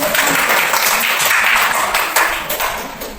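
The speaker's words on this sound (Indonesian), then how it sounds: "Tepuk tangan dulu." Fourth-grade classroom applause, children clapping together in a quick, loud burst that fades toward the end over about three seconds.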